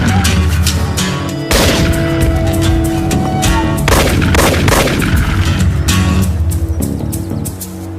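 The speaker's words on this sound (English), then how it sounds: "Good shooting, Ray." Loud gunshots in a Royal Canadian Mounted Police drama scene: repeated sharp cracks and booming reports fire close and heavy, merging into a sustained barrage with echoing tails.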